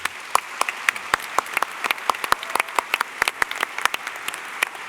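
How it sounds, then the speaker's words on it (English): An audience at an Oxford-style debate applauds the participants with a smattering of sharp, distinct claps over a light wash of clapping, close and fairly sparse rather than a dense roar. "give a warm round of applause for all the participants today"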